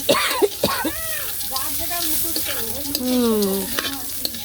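Bitter gourd (karela) frying and being stirred in a pan in a village kitchen, steady sizzling with scraping stirs while people talk over it.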